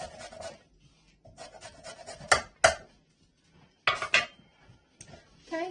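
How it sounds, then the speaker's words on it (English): A lemon is zested on a microplane in bursts of short, raspy scraping strokes, with a couple of sharper clicks and knocks between them and quiet pauses in between, close up and with no talking. "We're going to zest and quarter the lemon, and I just have this microplane."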